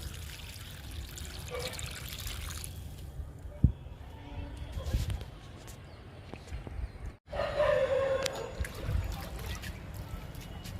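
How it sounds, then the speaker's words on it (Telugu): Water is poured into a container buried at the base of a lemon plant that holds kitchen and fruit-peel waste. Splashing and trickling come in bursts between quieter stretches, with scattered background noises. "నిమ్మ మొక్కకి వాటర్ ఇచ్చేద్దాము డబ్బాలో"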